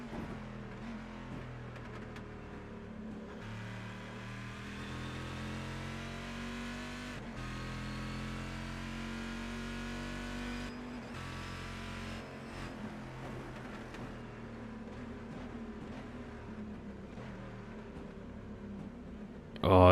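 Race car engine in a sim racing game during a Proto-GT Thrustmaster Challenge round, holding a steady mid-pitched drone with shifting harmonics as it runs through the gears, heard continuously throughout at moderate level.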